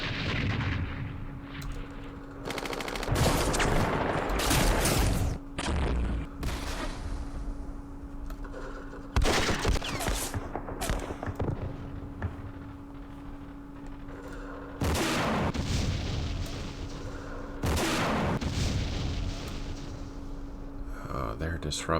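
Battle sounds from the Vietnam war game Campaign Series Vietnam at Dien Bien Phu: repeated heavy booms and crackling bursts of gunfire and artillery arrive in clusters across the stretch, loud and punchy, with someone talking between and over them.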